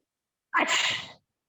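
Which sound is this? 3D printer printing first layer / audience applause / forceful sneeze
forceful sneeze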